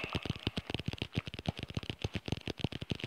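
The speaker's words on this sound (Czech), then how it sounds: "Takže já klikám jako zvěsilej." Rapid, dense clicking and tapping on a computer keyboard and mouse, close and dry, a fast irregular rattle of keystrokes throughout with no talk.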